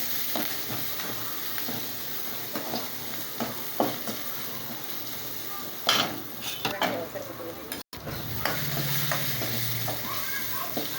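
Steady sizzling of spices and turmeric tempering in hot oil for rasam, with occasional crackles and spatters and a brief stir of a utensil in the pan.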